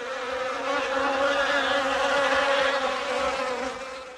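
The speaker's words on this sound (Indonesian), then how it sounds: "Aku adalah lebah." Bee buzzing close and steady, a continuous loud drone holding for several seconds before easing off slightly at the end, with no other sounds.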